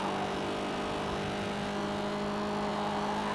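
Corvette Stingray engine accelerating in the racing game Gear Club, a loud continuous revving drone with steady tonal whine throughout, no voices.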